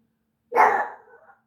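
A single loud, close bark from an indoor dog directed at another dog outside the window, one sharp burst that trails off quickly into silence.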